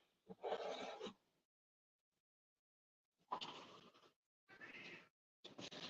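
An indoor house cat meows several times in a row, close and fairly loud, with short pauses between the calls and no talking.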